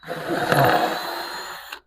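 A power drill whirs steadily for under two seconds while pre-drilling a pilot hole for a rabbit cage, its motor pitch rising briefly, then cuts off abruptly.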